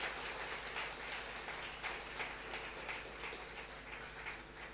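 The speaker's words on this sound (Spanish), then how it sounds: "un aplauso al Señor, por favor." A church congregation applauds in a steady, fairly faint patter of many hands, continuous and even throughout with no voices rising above it.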